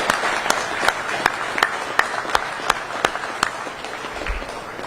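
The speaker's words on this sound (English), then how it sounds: "So I'd like to give them a big round of applause for actually walking the walk" Crowd at a 9/11 remembrance ceremony applauding steadily, a dense wash of clapping punctuated by regular louder claps, sustained at even volume throughout.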